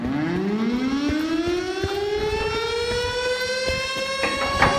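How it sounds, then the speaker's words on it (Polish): A loud civil-defense siren wails steadily in the mountains, its pitch rising and holding in a long sustained tone, with faint rumbling noise underneath. "Słyszysz tą syrenę? To tutaj wyje."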